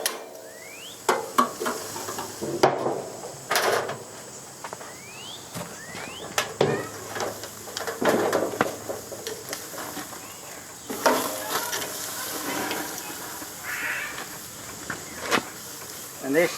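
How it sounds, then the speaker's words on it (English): Mushrooms sauté in a pan beside ribeye steaks, a continuous sizzle broken by sharp clacks and scrapes of a utensil stirring them, with faint background chirps and no clear talk. "And stir these mushrooms up a little bit."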